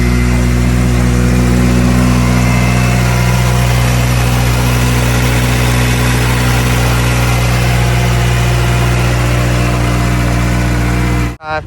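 K-swapped car engine idling steadily on a driveway, a loud, continuous low rumble with strong steady harmonics throughout, cutting off abruptly at the very end.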